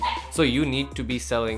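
A dog yips and whimpers in short, close bursts while a person keeps talking over it.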